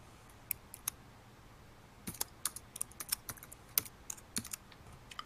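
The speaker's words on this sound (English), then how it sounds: "Somebody's typing. No, that's they're eating nuts." Someone crunches nuts with sharp, irregular clicks and cracks, quiet and close, like rapid keyboard typing, alone with no talk.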